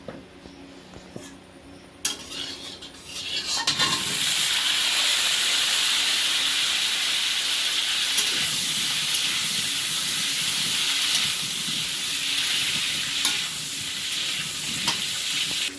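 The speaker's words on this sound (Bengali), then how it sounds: "কড়াই তেল দিলাম আলুটা ভাজবো প্রথমে" Potatoes fry in oil in a kadai, a loud, steady broadband sizzle and hiss that swells after a few seconds of quieter background and holds continuously, with faint clinks of handling underneath.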